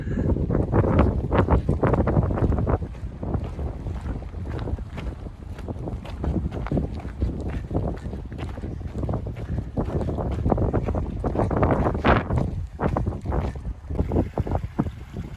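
Strong gusting wind buffets the microphone in heavy, irregular rumbling bursts on a cold mountainside, loud and continuous with no voices.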